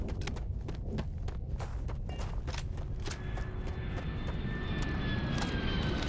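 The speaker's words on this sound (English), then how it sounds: "I'll hear the sonic boom and the ship will land." Spaceship landing in the Starfield video game, a steady rumbling engine roar with sharp repeated thumps and a rising whine as the ship comes down, loud and unbroken.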